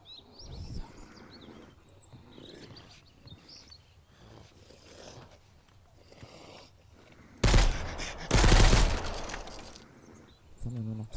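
Scattered gunshots at a zombie in the video game Mist Survival, with a loud burst of rapid fire and breaking near the end, while people talk in between.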